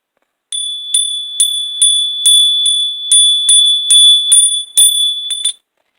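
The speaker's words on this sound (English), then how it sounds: "Now let me hit the bell so I can make sure all the vibrations have been purified" A small bell rings with a sustained high tone, struck repeatedly in quick succession about a dozen times, loud and close, then stops.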